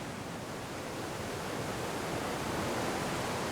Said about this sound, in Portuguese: As águas do mar batem as rochas.